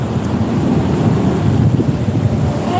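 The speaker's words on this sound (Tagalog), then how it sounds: "Sarap ng hangin, no?" Wind gusts buffet the microphone along the Pasig River esplanade, a loud, rough, continuous rush with uneven swells and no talking.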